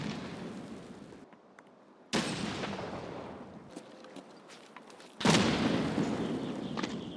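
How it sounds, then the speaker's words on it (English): Grenade blasts in Escape from Tarkov, two loud booming explosions a few seconds apart, each with a long rumbling decay, alongside scattered distant gunfire. "He just threw a grenade at me."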